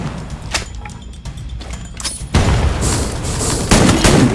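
Gunfire in the battle royale game Free Fire: scattered sharp shots at first, then a dense, loud burst of rapid automatic fire that continues to the end.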